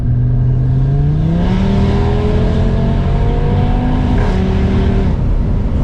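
A 2019 Audi RS3 with a full Milltek exhaust revs up steadily, its pitch climbing and holding before a brief shift, a throaty roar close by with no talking.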